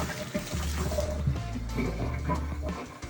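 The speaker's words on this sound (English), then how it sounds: "And then I turn that hot water back on." Hot water gushing from a bathtub tap into a tub, a close, steady splashing rush with a low gurgling undertone lasting a few seconds.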